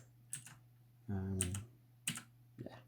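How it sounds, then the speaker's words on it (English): Keyboard shortcuts are typed on a computer keyboard as a few quiet, isolated key clicks, spaced apart, with a soft voice speaking briefly in between. "I'm just using the keyboard shortcuts at the moment"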